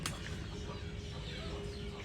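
Country chickens on a farm cluck faintly in the distance over steady outdoor background noise, with no voices close by.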